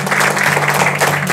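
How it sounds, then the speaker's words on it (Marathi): A short, loud burst of clapping from a gathered audience in a library hall in Amravati, honoring a guest at an award event, dense and close without talk. "आता टाळ्या होऊ द्या अभिजित गुप्ता सर यांच्यासाठी"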